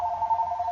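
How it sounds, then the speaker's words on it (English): A telephone rings in a steady electronic warble, close and fairly loud, holding for under a second with no one talking over it. "There's the phone."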